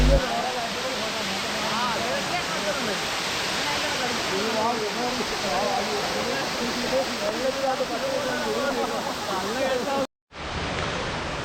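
Thusharagiri waterfall roars in a loud, constant, broadband wash of falling water, with someone talking over it, then a brief dropout before the roar resumes.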